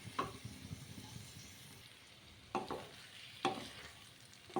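Gentle stirring of fish curry seasoned with salt and chili in a pan, soft scraping strokes at a slow uneven pace over a quiet simmering sizzle, close and fairly faint.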